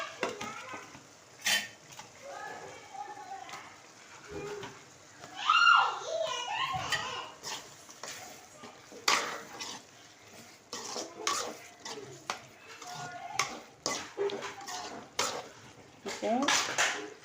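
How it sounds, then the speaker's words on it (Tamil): Dried milk shark goes into a frying pan with sautéed tomato and onion, followed by repeated metal spoon scrapes and clinks against the pan in irregular bursts over a soft sizzle, fairly close and quiet. "இப்போ கருவாடு போட்டுக்கலாம்."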